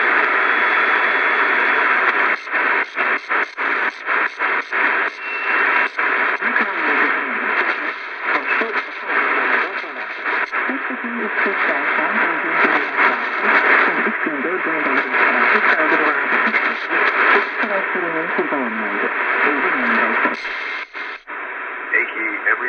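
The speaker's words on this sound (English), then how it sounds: "let's just switch to shortwave 2, just see if we hear anything" Shortwave broadcast pulled in near midnight on a small Prunus J-136 AM/FM/shortwave radio: a fluttering, static-laced voice fades in and out through a steady hiss, with brief dropouts and clicks from tuning.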